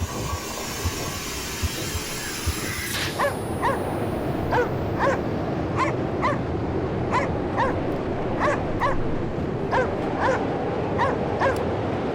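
Dogs bark repeatedly in a steady rhythm with occasional yips inside the video game Cryostasis, set against a constant low rumbling background.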